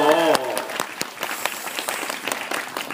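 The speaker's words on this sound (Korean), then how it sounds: "좋은작품만나시라고박수좀부탁드릴게요" Fans at a Kim Soo-hyun Lemona fan meeting in Seoul clap with scattered, uneven applause that follows a brief voice at the start and continues at a moderate level.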